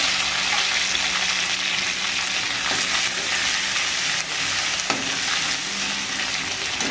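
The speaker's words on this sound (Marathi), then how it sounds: "तेल टाकलं की आपल्याला कोथिंबीर घालायची।" Chopped, washed coriander sizzles and crackles steadily in hot oil for a Maharashtrian val ghugrya dish, a close, continuous fry with occasional stirring scrapes and no talk.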